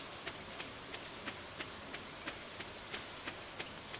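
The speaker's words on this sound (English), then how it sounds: "Nothing moister than an oyster in the rain." Steady, even rainfall in the Stardew Valley video game, a dense hiss of falling drops with faint regular ticks throughout and no voices.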